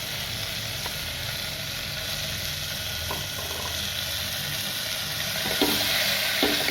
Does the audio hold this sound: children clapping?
no